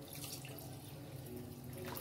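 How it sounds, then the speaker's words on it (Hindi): Coconut milk pours into a chicken stew in a pot, a soft continuous liquid trickle and splash, quiet and close with no talk. "अब हम ये कोकोनट मिल्क इसमें ऐड करेंगे।"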